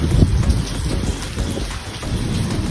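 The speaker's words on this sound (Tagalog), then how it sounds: "Ang lakas ng ulan." Heavy rain pours steadily with a dense, continuous hiss and a low rumble underneath, loud and close throughout.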